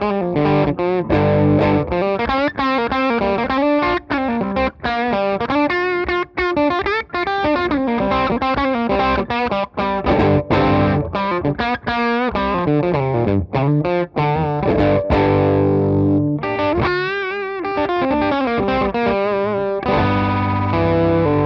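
Les Paul electric guitar on the bridge pickup with its tone rolled back halfway, played through a Chevtone Messiah Drive plexi-style pedal at low gain for mild breakup; a continuous, loud run of chords and single notes with no talking.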